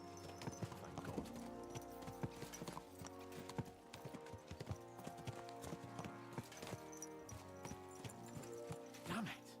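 Several horses' hooves clip-clop in an uneven, continuous rhythm, fairly near, over background music with no one speaking.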